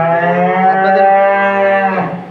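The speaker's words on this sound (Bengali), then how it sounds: "এটা হলো 1 নাম্বার হলিস্টান ফ্রিজিয়ান বিগ সাইজের গাভী" A large Holstein Friesian dairy cow gives one loud, close, sustained moo lasting about two seconds that trails off at the end.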